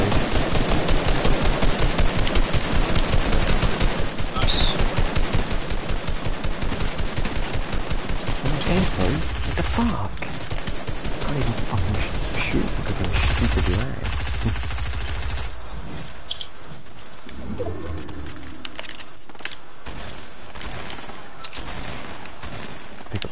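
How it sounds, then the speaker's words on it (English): Rapid automatic gunfire in the game Fortnite rattles loud and dense for about fifteen seconds, then thins into scattered shots and quieter game sounds. "someone's shooting"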